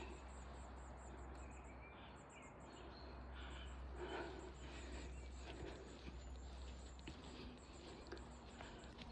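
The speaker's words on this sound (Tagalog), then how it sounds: "Maririnig nyo lang dito guys, mga huni ng ibon." Faint, repeated high chirping birdsong in a forest drifts over a steady low hum and soft background ambience, with no talking.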